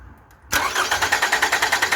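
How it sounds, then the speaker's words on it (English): A Toyota Camry engine cranks over with a fast, even rhythmic chugging from the starter motor, loud and close, beginning abruptly after a brief quiet hum and continuing steadily without talk. "I'm going to have my assistant crank the engine over."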